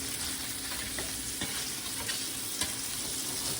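Salmon fillet pan-grilling on a stovetop, giving a steady, close sizzle and crackle of frying with a few sharper pops, no talking.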